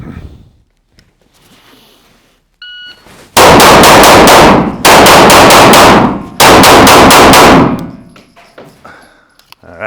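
Three loud bursts of rapid gunfire from a move and shoot drill at a shooting range, each a dense string of shots lasting over a second, separated by brief pauses, with quiet metallic pings and shuffling before.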